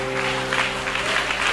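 A church congregation claps together in steady, dense applause to acclaim Jesus, with a sustained musical tone running underneath.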